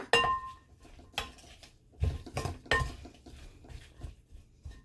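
Salted cucumber slices are stirred in a bowl, giving soft irregular clinks and scrapes of a utensil against the dish in quiet bursts, close and faint, with no talk.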